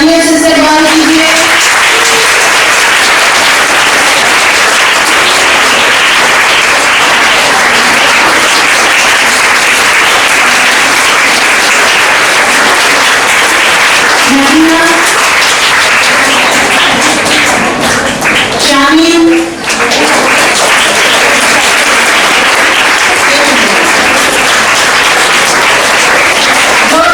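A crowd applauding at a 75th Independence Day program held on 15 August: loud, sustained clapping and tapping that fills the whole stretch, with brief voices surfacing now and then.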